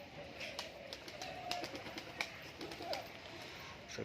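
Pigeons, including black Luton birds, in a loft with coops, cooing softly in a low, quiet, continuous murmur with scattered faint clicks and wing or movement sounds.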